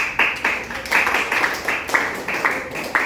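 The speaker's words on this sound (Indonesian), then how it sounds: "tepuk tangan untuk kelompoknya Sega." A classroom claps for a student group after a presentation, a scattered but steady patter of hands with several rhythmic surges over about three seconds, fairly close.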